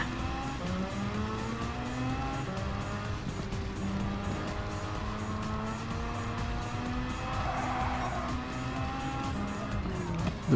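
Race cars in Gran Turismo 7, including a Nissan GT-R R35 overtaking, with steady engine drone and shifting pitch, some tire squeal, close and loud throughout without pauses.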